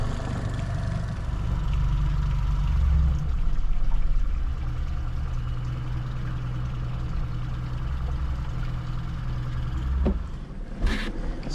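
Outboard motor on a fishing boat turning around on Odell Lake, a steady low droning hum with water wash, holding even for about ten seconds before a brief louder surge near the end.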